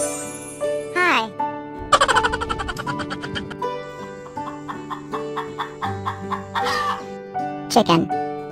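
A chicken clucks in short, repeated bursts over a bouncy children's tune, the calls close and fairly loud amid the farm-animal melody.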